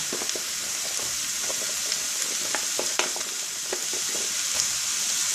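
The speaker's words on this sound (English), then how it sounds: "So what I'm going to do now is I'm going to add these onions." Onions sizzling in a hot pan, likely for a chicken and vegetable casserole: a steady, bright frying hiss with small pops and crackles scattered throughout, close and continuous, with no talking.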